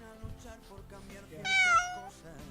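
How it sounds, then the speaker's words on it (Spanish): A pet cat meowing indoors, one clear drawn-out meow in the middle of a quiet room. "Tu gato está maullando."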